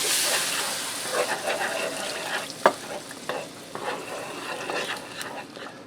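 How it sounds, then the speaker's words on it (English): Four cups of beef broth stirred into a mushroom roux in a pan for gravy to go with pork chops: wet sizzling and sloshing with soft scraping strokes and one sharp knock, close and steady, without talking. "I'm going to stir in 4 cups of beef broth"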